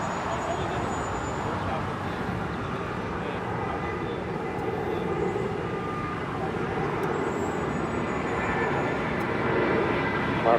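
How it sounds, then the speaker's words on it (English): Boeing 757-300 on its takeoff roll down runway 25 right at Los Angeles International Airport: a broad, continuous jet engine roar heard from a distance, slowly swelling toward the end, with faint radio chatter underneath. "a 757-300 now rolling down 25 right"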